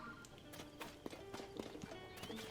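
Horse hooves clip-clop in Zelda: Tears of the Kingdom, an irregular run of close, distinct knocks with a faint whinny, over soft game ambience.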